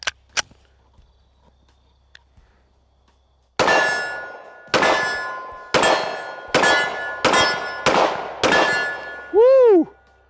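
Seven sharp pistol shots fired one after another with old hollow point duty ammunition, emptying a full magazine. The reports are loud, close and evenly spaced, and a ringing metallic tone follows the final shot.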